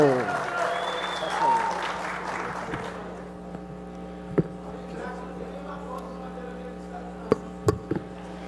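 Audience applause at a political debate for a municipal election, a burst of clapping in a hall during the first few seconds that fades to a quiet room with mains hum and occasional knocks.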